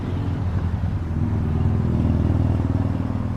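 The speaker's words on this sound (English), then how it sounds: "I can hear them motorcycles go past." Motorcycles pass on a road near Missouri Pass, Colorado, heard as a steady low engine rumble and clatter at moderate distance that swells slightly as they go by.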